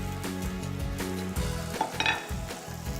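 A pound of ground turkey sizzles steadily in a pan with sautéed garlic and onion, a loud continuous frying hiss broken by a few spoon and pan clinks as it is stirred.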